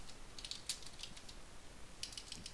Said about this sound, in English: yeah, typing is